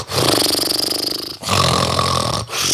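A voice imitates a man snoring in a movie theater, giving three loud, close, rasping snorts, the first two long and the last cut short, each separated by a brief pause.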